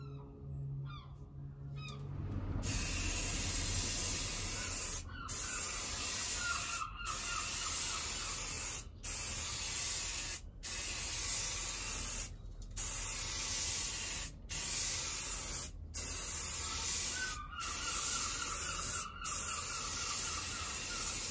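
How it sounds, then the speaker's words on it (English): Primer spray-painted on in repeated passes, a steady close hiss of aerosol broken into bursts of one to two seconds by brief gaps, with no voices. "we're going to press on with three coats of the primer"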